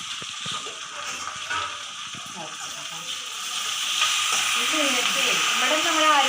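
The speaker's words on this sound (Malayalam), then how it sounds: "കുറച്ച് വെള്ളം ഒഴിക്കും." Water poured into a hot pan of curry with curry leaves, giving a steady hiss that swells louder toward the end.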